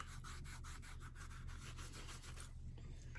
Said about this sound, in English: I'll just rub this on, put a nice coat on it, like this.